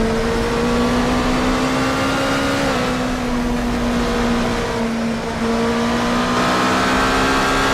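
Race car engine at the Autopolis circuit in Japan during a downshift: a loud, steady, close engine drone with a sustained tone that dips briefly in pitch about a third of the way through, and no talking.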